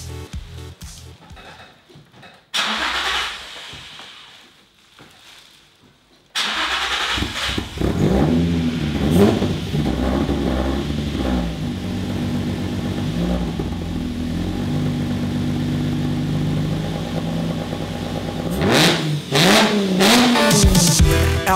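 A Nissan 350Z engine cranks with a few short bursts, then starts and settles into a loud, steady idle up close, rising in a couple of revs near the end.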